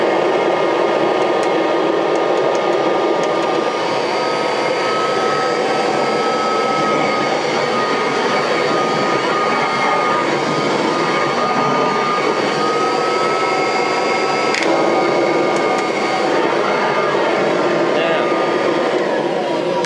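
A repaired Kirby Legend II upright vacuum cleaner runs continuously indoors, a loud, steady motor whine and airflow roar holding for the whole stretch without pause.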